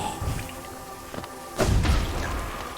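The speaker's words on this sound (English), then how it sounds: "That is quite the explosion." A bug enemy explodes in Hollow Knight: a sudden loud thumping burst midway, following smaller thuds, with a rumbling tail that fades slowly and no speech.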